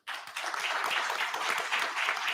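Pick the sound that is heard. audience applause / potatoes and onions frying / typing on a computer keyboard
audience applause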